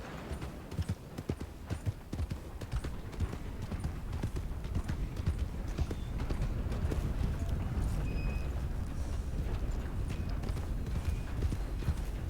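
A horse's hooves clip-clop steadily on the ground in the western game Red Dead Online, a rapid, even rhythm that sounds close and continues throughout over faint background ambience.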